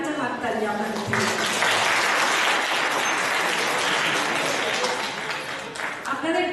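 A concert audience applauds steadily at a Bengali song evening, Shrabon Sondhya 2015, with dense, sustained clapping from a large crowd that swells and then holds at an even level throughout.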